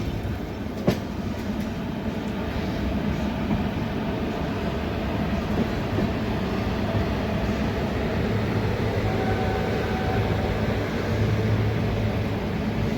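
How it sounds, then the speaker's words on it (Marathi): Kolhapur–Mumbai Koyna Express hauled by a WP4 locomotive on the adjacent track near Pune station, giving a steady low rail rumble with a faint clickety-clack of wheels over the joints that lasts throughout without a break. "पलीकडच्या ट्रॅकवर आलेली आहे Kolhapur Mumbai Koyna express WP4 locomotive सोबत"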